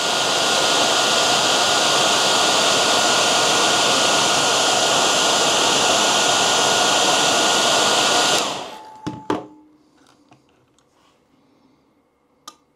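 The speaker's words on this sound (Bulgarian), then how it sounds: "Сега ще впусна сешоара" A hair dryer blows loud and steady for about eight seconds while testing a humidity controller, then shuts off abruptly, leaving a few handling clicks and thumps in near silence.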